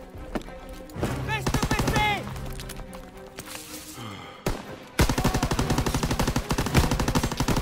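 Rapid machine gun bursts in a D-Day landing war video game, with clattering repeated fire across most of the clip, a brief pause, then a loud sustained volley, mixed with shouted voices.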